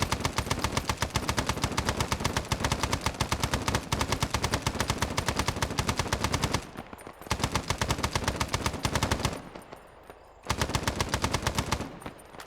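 Dense, continuous video-game gunfire from the SOG survival campaign, rapid automatic bursts rattling almost nonstop, broken by two short lulls before the shooting resumes, loud and close with no talking.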